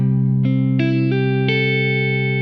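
An electric guitar picks out the riff of a song, with chordal notes struck one after another and left to ring, sustained and clear, with no voice over it.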